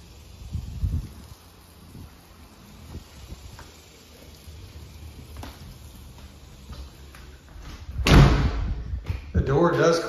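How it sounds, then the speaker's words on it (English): A back door of a house closes with a loud slam-like thud near the end, set against faint rustling and room noise, with a softer thump earlier. "Does close good, but we're going to adjust that back door just a little bit more."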